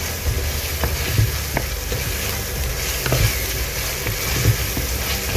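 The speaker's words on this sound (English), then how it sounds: "This whole process of frying the onion until it's dark brown takes around 8 to 10 minutes." Steady sizzling of onions frying in a hot pan until dark brown, a continuous crackly hiss with faint stirring taps, close by and unbroken.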